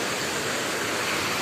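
Keralamkundu waterfall at Karuvarakundu in the rainy season with a strong flow, a dense, steady rushing roar heard close and alone for a brief moment.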